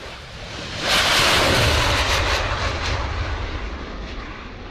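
Saab Gripen-E (F-39E) fighter jet of the Brazilian Air Force flying in Brazil, a loud broad jet roar that swells quickly and then rumbles steadily as it passes, with no voices.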